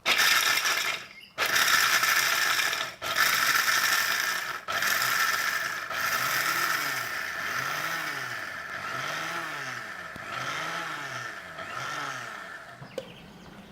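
A mixer grinder runs in short pulses to grind cashews. Several loud whirring bursts are cut by brief silences, then the blades rattle and spin down in repeated cycles with a squeaky, grinding tone.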